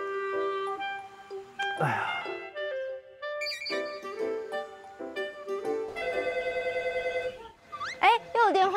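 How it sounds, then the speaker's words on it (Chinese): A telephone rings with a repeating electronic melodic ringtone, fairly close, amid a lively household scene on a rural countryside show, with people talking and exclaiming around it. "又有电话"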